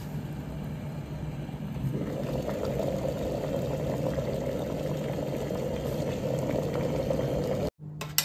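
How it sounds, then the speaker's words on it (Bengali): An electric kettle steams momos, a steady close bubbling and hissing rumble that runs unbroken and then cuts off abruptly near the end. "আমি এখানে মোমোগুলোকে রিস্টিম করছি"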